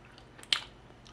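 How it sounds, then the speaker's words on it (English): Raw honeycomb wax being chewed close up gives a single sharp crunching bite near the middle, then soft, quiet mouth sounds fading out. "how I'm chewing, but the wax is kind of tough"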